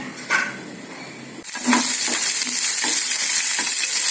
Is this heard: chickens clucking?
no